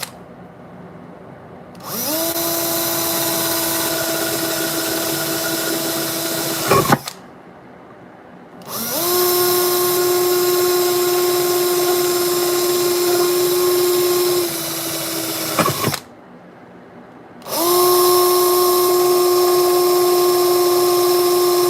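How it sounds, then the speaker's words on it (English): A power drill pre-drilling holes in a metal guitar pedal enclosure, running in three long, loud whining bursts with steady pitch, each ending in a sharp squeal before a short pause. "Bear with me with this drill."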